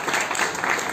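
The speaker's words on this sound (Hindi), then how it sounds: "तालियों में कंजूसी ना करें," Dense audience applause at an Independence Day speech event, a continuous wash of many hands clapping, loud and close, lasting about a second.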